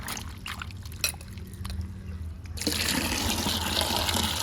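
Thuthi plant leaves are washed in water, with faint scattered splashes and drips at first, then a louder steady rush of running water taking over for the rest.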